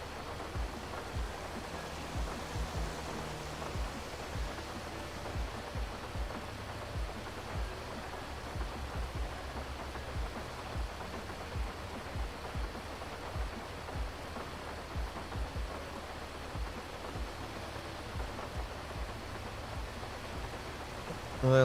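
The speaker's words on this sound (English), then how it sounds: "the rain, it's raining hard" Heavy rain pours in a dense, steady wash of hiss, with faint low thumps of drops striking a surface nearby, continuing evenly throughout.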